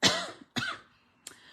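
A person coughs indoors during a paper-crafting session, two short dry coughs close together followed by a faint throat-clearing sound, with no talking.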